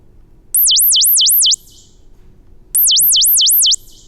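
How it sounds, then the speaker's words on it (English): Frequency-modulated sinusoid test signal, a high pure tone warbling rapidly up and down in pitch, played in two separate one-second bursts with quiet gaps between them. "frequency modulated sinusoid."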